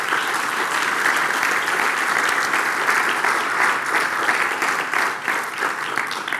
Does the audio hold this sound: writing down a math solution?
no